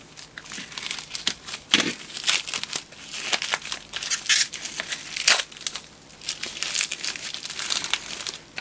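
Packaging on a parcel crinkles and crackles up close as it is pulled open by hand, in loud irregular bursts of rustling and crumpling that run throughout.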